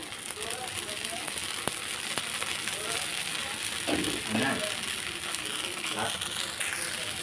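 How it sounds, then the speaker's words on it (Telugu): A dosa sizzles on a hot pan with a little oil added, a steady bright hiss with soft crackles running throughout, while a voice murmurs briefly in the background. "ఇంకో దోశ వేసాను ఆయిల్ కూడా వేస్తాం కొంచెం ఆయిల్ వేసుకుందామండి"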